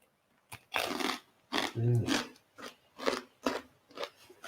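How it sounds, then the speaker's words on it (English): A crunchy crouton from a vegan Caesar salad being bitten and chewed close up, giving a series of loud, irregular crunching bursts with a voice talking in between. "I'm going to sound like I'm crunching really, really loudly here"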